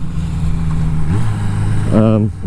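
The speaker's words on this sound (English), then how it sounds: "God, I love the sound of this bike, seriously." A 1982 Yamaha Seca XJ650 motorcycle engine idles loud and close with a steady, even note, then blips the throttle in a short rev and settles back down.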